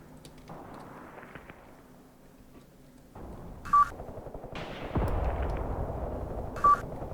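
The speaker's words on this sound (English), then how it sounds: "Artillery strike, nice." Artillery strike in the wargame Graviteam Tactics: Mius Front: deep booming impacts and rumbling blasts rolling in and out at a distance, with two brief electronic beeps sounding over the bombardment.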